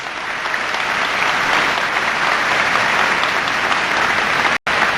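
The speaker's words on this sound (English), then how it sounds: "Please give them all a big round of applause." Sustained applause from a large audience at a 1993 Congressional Black Caucus town hall on race in America, steady and dense throughout, with one abrupt brief cut near the end.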